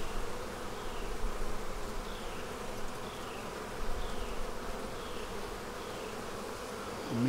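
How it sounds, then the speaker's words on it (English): Swarms of honeybees buzz in a steady, dense drone around an open hive frame of brood, close and continuous, with no speech over it. "there's just so many bees"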